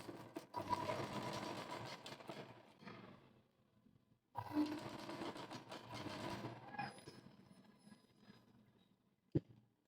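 A sewing machine runs in two long bursts of stitching along the side of a cross-folded fabric piece for a blouse, its steady whirring motor loud and close, with a short pause between runs and a sharp click at the end.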